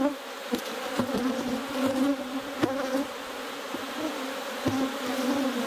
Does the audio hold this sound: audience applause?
no